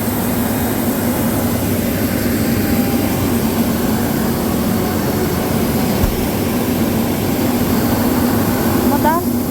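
A car engine runs steadily after starting in freezing Canadian winter weather, a constant loud low hum with no change in pitch, and a voice faintly in the background.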